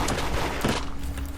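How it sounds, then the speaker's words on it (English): Video game gunfire during a ten-versus-three raid, a brief burst of rapid shots crackling under busy background noise. "Why the fuck is he shooting me?"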